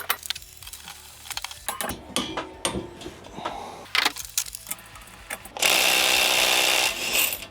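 A Procraft Industrial ID20A impact driver loosens a fastener at the 180 Nm setting. After a few scattered clicks and handling knocks, a loud, dense rattling hammer burst runs for about two seconds near the end.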